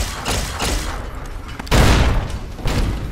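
Gunfire in Fallout New Vegas, laser pistol shots and loud bursts in the game, including a heavy boom partway through, dense and close with no clear talk over it.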